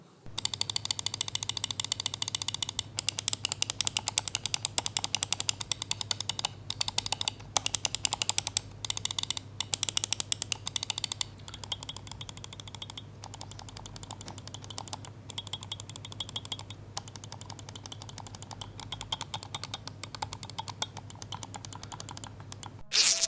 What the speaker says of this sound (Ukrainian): Я не знаю, що тут стоїть, але клік е, дуже чіткий, дуже приємний.